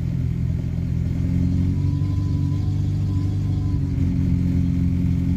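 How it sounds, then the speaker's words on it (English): A Renault 10 engine idles fast on the choke with a steady, close, throbbing rumble that holds an even pace throughout. "it's chugging away quite nice as you can probably hear, but it is running on its own with the choke"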